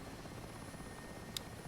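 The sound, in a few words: Mi-8 helicopter engines running, DCS video game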